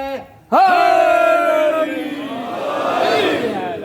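A crowd of worshippers at a religious gathering raises a loud unison shout of religious slogans, beginning abruptly after a brief quiet and holding as a sustained, ringing chant that slowly fades.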